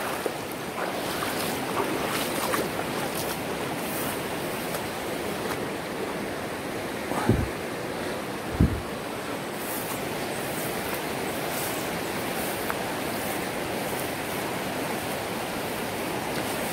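Swift water of the Okoy river rushes past in a steady, broadband wash that carries on throughout, with a couple of brief knocks partway through.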